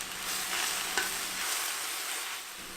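Spinach frying in a hot, nearly dry pan with a little salt: a steady soft sizzle that stays level throughout, with a faint stir near the middle and no voices.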